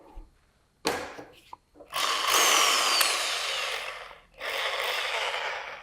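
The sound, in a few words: Bosch GSB 10 RE electric drill driving a screw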